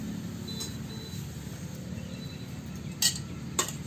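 Carrot halwa with sugar is stirred in a pan, with soft scraping under a low kitchen hum and two brief metallic clinks near the end.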